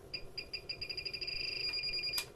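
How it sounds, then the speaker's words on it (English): A Turnigy 9XR radio-control transmitter with its stick centered gives a run of quick, high electronic beeps that merge into a steadier tone, near and fairly quiet over a low background hum. "these 4 beeps show you that you are in the middle position"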